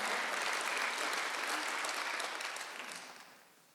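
A church congregation applauds together in a brief burst of steady clapping that gradually fades away over a few seconds, with no voices over it.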